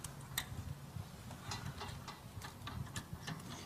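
Welding wire feeding through the drive rollers of a MIG welder: faint, close mechanical ticking and clicking in an uneven run, with soft rattles over a low hum.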